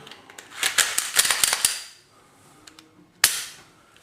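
A Glock pistol is put back together, giving a close cluster of sharp metallic clicks and clacks followed by a pause. A single loud snap follows as the slide clicks into place.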